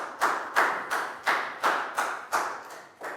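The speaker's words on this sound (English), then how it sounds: "High five and a big round of applause for Pat." A classroom gives a round of applause as a steady rhythmic series of sharp, close claps, about eight evenly spaced beats with no talking.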